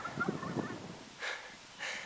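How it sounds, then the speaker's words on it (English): Wild turkey gobblers in a spring field, sounding two faint, far-off gobbles in quick succession late in the stretch after some low rustling, with no one talking. "some gobblers gobbling at me"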